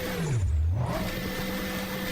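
In a video game, a Bugatti with a big, powerful engine revs while its tires struggle on an extreme downhill course. A low engine tone dips sharply and then rises again under a steady whir, moderately loud and without speech.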